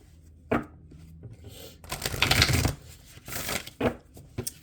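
Oracle cards are shuffled by hand in quick bursts, with crisp riffling and sharp flicks of card stock close up, separated by brief pauses in a quiet room.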